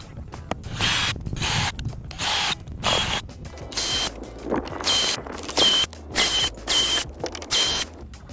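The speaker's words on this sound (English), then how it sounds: "there are several screws holding this crate down to the pallet underneath. And all you have to do is unscrew them and lift it right off." A power drill whirs in repeated short bursts while unscrewing the screws that hold a shipping crate to its pallet during the unboxing of an E-STRAPZ SB Storm 72V electric motorbike, with brief pauses between bursts.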